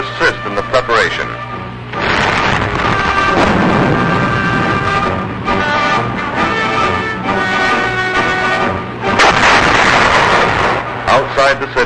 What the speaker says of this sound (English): Bombing and strafing aircraft assist in the preparation.